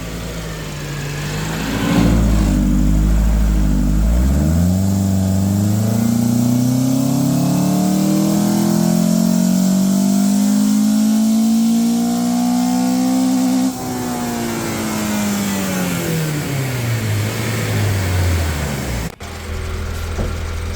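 A Toyota Camry with a swapped Honda K24 engine revs hard on a dyno, the loud engine note climbing steadily through a long pull, holding high, then dropping off as the throttle closes.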